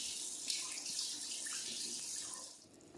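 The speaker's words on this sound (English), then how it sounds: "I'm going to run it under some hot water" Hot tap water runs steadily into a kitchen sink as a candy thermometer is rinsed under it, a soft continuous splashing rush that eases slightly near the end.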